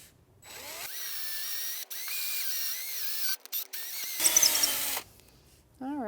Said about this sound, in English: we're done with the drill